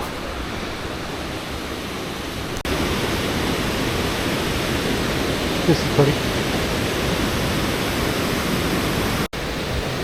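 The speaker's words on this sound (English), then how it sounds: "More of the same waterfall." Rushing water from a waterfall in Nishizawa Ravine fills a windy gorge, a steady broadband roar that runs unbroken throughout, with a brief spoken remark over it.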